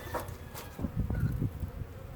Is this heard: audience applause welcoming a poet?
no